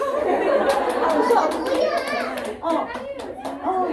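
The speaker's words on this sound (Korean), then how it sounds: "하나, 둘, 셋! 박수!" Kindergarten children clap together at a cheerful count-in during a kimchi-making session in a Korean kindergarten, the patter of small hands mixed with lively kids' chatter and voices, moderately loud and close.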